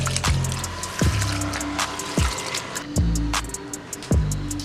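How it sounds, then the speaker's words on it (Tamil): Half a kilo of basmati rice is washed by hand in a pot of water, with close splashing, swishing and sloshing plus a few heavier rhythmic sloshes about a second apart, and no talking. "அரிசியை நல்லா கழுவிக்கலாம்."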